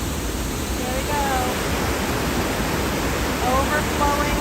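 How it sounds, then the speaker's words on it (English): Floodwater rushes over a waterfall in New England, a loud continuous broadband roar filling the scene, with faint voices speaking briefly beneath it. "I don't normally see water rushing on that side, but it is coming down from somewhere."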